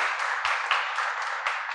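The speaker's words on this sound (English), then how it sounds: "Let's hear a round of applause for everyone." A panel discussion audience claps steadily in a dense, continuous round of applause indoors, moderately loud and without pauses.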